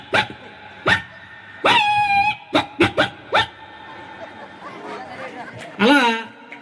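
A person imitates a small puppy barking with a series of sharp, high yaps, some rapid and clustered, and a whining yelp near the end, mixed with bits of speech.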